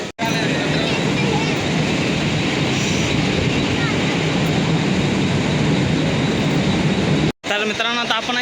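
A local train at a railway station, its steady loud rumble and rush filling the scene almost continuously, broken by a short gap near the end, with a faint babble of voices beneath.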